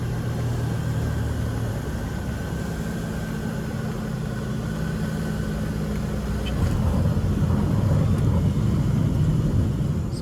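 Small aircraft touching down at Mapai Airfield, a steady low engine rumble and cabin drone that swells louder toward the end as the plane rolls out.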